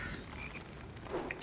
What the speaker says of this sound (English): and here is a chocolate frog.